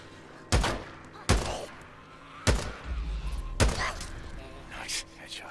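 Four loud, sharp gunshots ring out at uneven intervals in the PS4 survival game Days Gone, each a hard crack with a short tail, followed by quieter background game noise.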